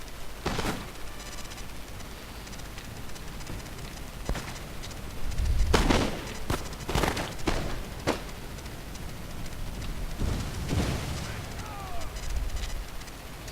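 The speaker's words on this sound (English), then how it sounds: "I get quite a good volley off and onto the German Fusiliers." Musket volleys crack in a Napoleon Total War battle, several sharp bursts and scattered shots over a busy battlefield rumble, with a voice speaking over parts of it.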